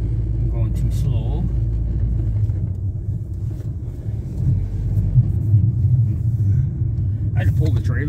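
Car engine idling or running on a snowy off-grid homestead while the heater is on, a low continuous rumble close by under a person talking.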